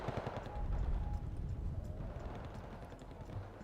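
Distant, muffled rattling gunfire from a Starfighter jet on a strafing run in the Wargame Red Dragon strategy game, a steady low rumble of rapid fire under game ambience.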